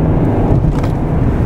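Turbo diesel Mercedes fitted with a catless downpipe accelerating hard with its tires spinning, a steady, loud low engine roar held throughout a short stretch.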